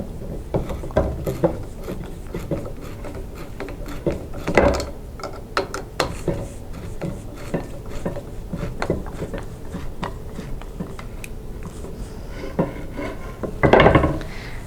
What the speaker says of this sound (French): Je prends ma vis, je l'insère et il va falloir que je la visse de cette façon.